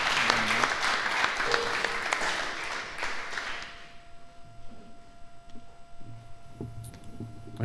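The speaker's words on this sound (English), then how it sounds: "So let's give them a massive round of applause." At a live coffee industry event, an audience gives a round of applause, dense clapping for about four seconds that fades out, leaving a quiet room with a voice speaking and a faint steady tone.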